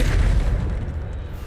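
A Bombarda explosion spell goes off in Hogwarts Legacy as a loud, deep booming blast, heavy in low rumble, decaying over about a second and a half.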